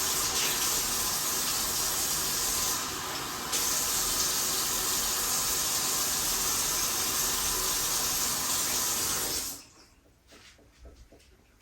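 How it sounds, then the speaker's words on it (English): Water runs steadily from a tap into a container holding a pineapple top, a loud, continuous gushing hiss that stops near the end, leaving faint handling sounds. "So we're going to put some more water in here."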